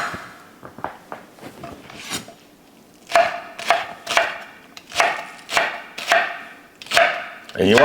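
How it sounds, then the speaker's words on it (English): A knife chops scallions on a cutting board. Scattered crisp taps come first, then settle into a steady rhythm of sharp, close strokes. "So we're just gonna chop up some scallions."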